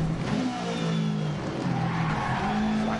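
A rally car in the racing game Dirt Rally 2.0 slides under handbrake on gravel, with steady engine drone and tonal revving running through a continuous loud skid across the whole stretch.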